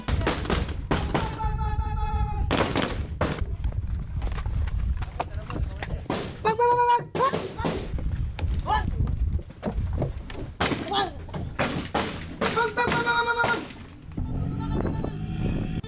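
A voice imitates automatic gunfire bursts with the mouth, standing in for blank rounds during a staged military exercise, giving repeated rapid rattling bursts among other talk and noise throughout.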